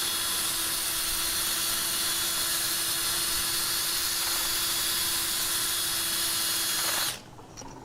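A wood lathe spins an oak burr bowl with a steady whirring hum and hiss of sanding against the wood, loud and constant, then cuts off sharply as the machine stops near the end.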